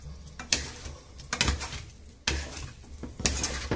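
Red peppers and onion being stirred in a frying pan with oil that is not yet hot, a spoon knocking and scraping against the pan in several clattering bursts, faint and close, with no real sizzle.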